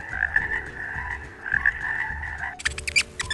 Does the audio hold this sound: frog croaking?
yes